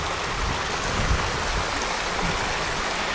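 A river on Dartmoor rushes steadily close by, an even broadband wash of flowing water without pauses or talk.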